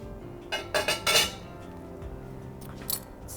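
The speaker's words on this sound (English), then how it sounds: "Stir that together." A spoon clinks against a bowl while wing sauce of hot sauce and melted butter is stirred, giving a few quick bright scrapes and taps close by, then a brief clink near the end.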